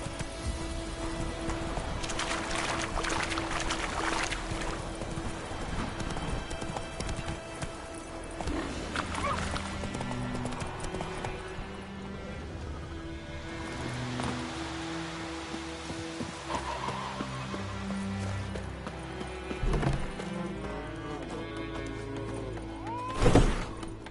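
Horse hooves galloping in Witcher 3: a fairly steady, rhythmic hoof clatter runs through the stretch, moderately close, over a bed of game ambience and music, without talk.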